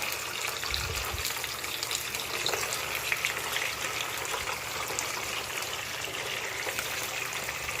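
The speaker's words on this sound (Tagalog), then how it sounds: "So, magpiprito na tayo ng isda." Steady loud sizzling and crackling of fish frying in hot oil, continuous and close throughout.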